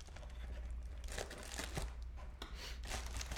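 Close, faint crinkling and tearing of trading card packaging along a perforated line, in irregular crackly bursts with no talking.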